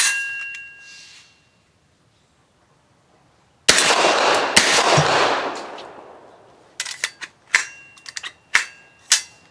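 A Dark Storm Industries Hailstorm 9mm pistol fires steel case ammunition outdoors, one sharp close report followed by a ringing tail, then a cluster of quieter clacks and metallic clicks.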